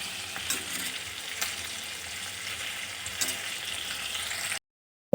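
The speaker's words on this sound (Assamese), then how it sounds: "এয়া চিকেনখিনি মই ফ্ৰাই কৰি লৈছোঁ" Chicken pieces coated in turmeric, salt and chili powder fry in hot oil with a steady, dense sizzle, a few louder crackles and utensil scrapes punctuating it before it cuts off abruptly near the end.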